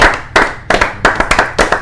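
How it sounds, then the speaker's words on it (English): Hands clap in short, sharp bursts for a guest on a sports talk show with a Houston Texans guest, the claps coming in a rhythmic string of about six loud, close pulses with no talking. "Let's give him a round of applause."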